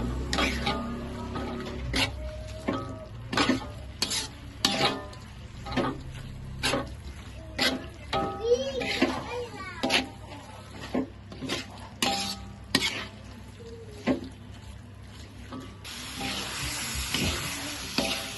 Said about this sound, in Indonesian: Kita tumis dulu udangnya sebentar sampai bumbu ini meresap ke dalam udang nih